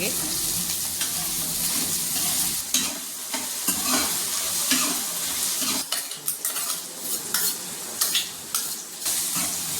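Onions sizzle loudly in a hot pan while being stirred for a desi aloo pakoda curry, with a constant frying hiss broken by repeated scraping clinks of a metal spoon against the pan.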